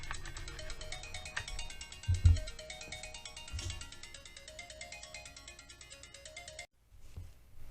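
A phone rings in a guitar workshop with a steady electronic ringtone, repeating pulses at moderate volume for several seconds, then cutting off abruptly near the end, with only faint room noise after.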